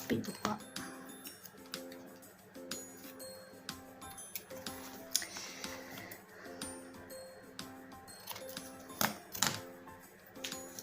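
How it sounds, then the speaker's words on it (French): Paper being cut straight while building an art journal, with a run of small dry snips and ticks under a soft voice, close and fairly quiet. "Je vais couper droit."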